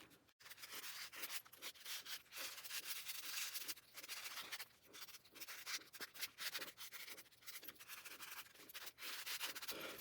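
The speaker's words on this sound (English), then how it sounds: "you're going to sand down any bumps to make a nice smooth surface so that you can start applying your edge paint" Hand sanding of a smoothed base coat before edge painting, close rhythmic rubbing strokes repeated steadily and quietly, no voice.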